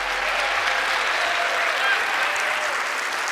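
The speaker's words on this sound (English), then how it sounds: "Please give Teller a big round of applause" A studio audience on the magic show Penn & Teller: Fool Us applauds Teller, a dense, steady roar of clapping that holds at full strength for the whole stretch without any break.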